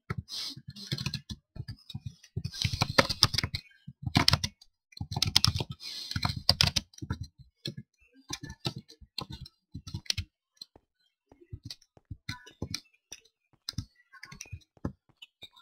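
Typing on a computer keyboard to send Minecraft chat: close, crisp keystroke clicks in irregular bursts with brief pauses, thinning toward the end into sparse single taps.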